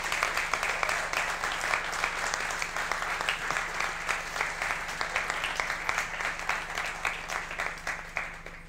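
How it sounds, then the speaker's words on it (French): Applause from the audience at a company talk, steady clapping from a crowd heard at moderate volume over a low steady hum, lasting the whole stretch without fading. "Si vous pouvez l'applaudir, ça me fait trop plaisir."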